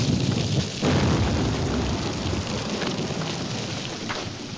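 Heavy rain pours steadily on an outdoor Western scene, a dense, loud broadband wash that continues unbroken, with a low rumble of thunder in the background and no talk.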